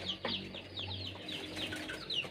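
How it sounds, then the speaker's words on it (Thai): Chickens cluck and cackle in a yard near a newly trained bird's cage, with several overlapping clucks of moderate loudness and no talking. "ไก่มันเสียงดัง กุ๊กกุ๊กกักกักนะครับ"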